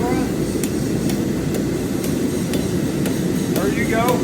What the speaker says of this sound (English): And then you're going to take your left side. Just hammer that from the back to the front.